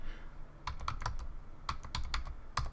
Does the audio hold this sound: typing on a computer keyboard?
yes